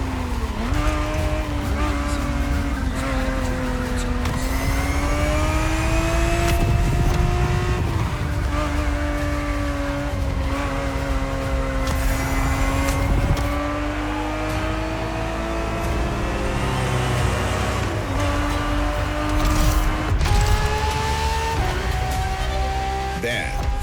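A Ferrari 365 GTB4 races in The Crew Motorfest, its engine loud and close as it climbs and drops through revs, with tire squeals along the way and a voice talking over the engine note throughout.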